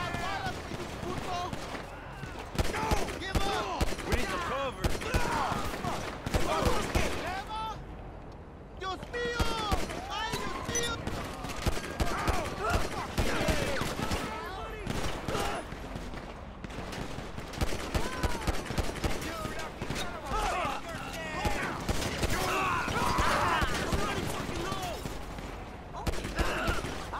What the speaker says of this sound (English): Incoming, shots fired.